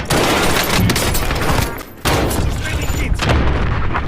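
Dense, rapid gunfire in the video game Call of Duty: Warzone rattles almost continuously, loud and close, with a brief pause before another heavy volley and voices mixed in.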